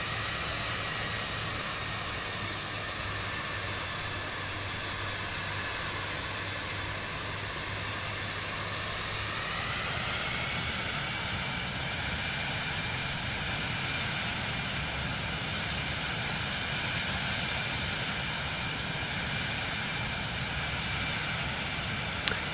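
A fixed-wing airplane's engine in Microsoft Flight Simulator 2024 on PS5 powers up on approach with full flaps, a loud continuous drone whose pitch rises midway and then holds steady.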